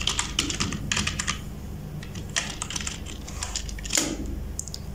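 Someone types a folder name on a computer keyboard, producing quick bursts of close, crisp key clicks in uneven clusters with short pauses between them.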